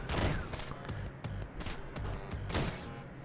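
Shotgun blasts in the video game Downwell sound as a few sharp bursts, with two strong hits standing out amid busy game sound effects at moderate level.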